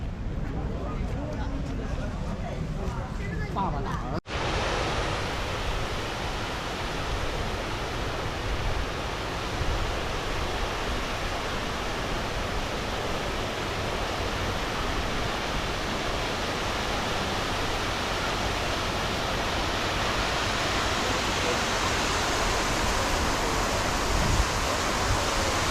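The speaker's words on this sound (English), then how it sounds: "But yeah, you can see part of the waterfall." A waterfall in Vigeland Park, Oslo, gives a loud, steady roar of rushing water that fills the whole scene. A voice speaks briefly over it at the start.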